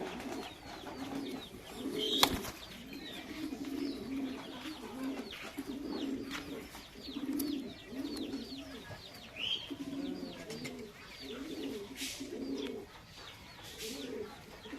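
Racing pigeons in a loft coo in soft, repeated low rolling calls, several birds close by, with a few sharper chirps and clucks mixed in.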